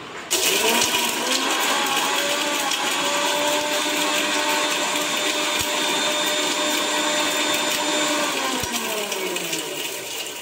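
A mixer grinder whirs loudly and continuously as it grinds roasted spice masala of cloves, cardamom, pepper, cumin and fennel for prawn pickle, with a steady high motor whine and no voices.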